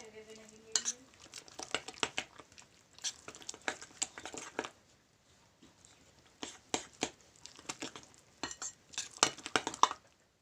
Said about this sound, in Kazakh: Қазір ақырындап осылай араластырып аламыз.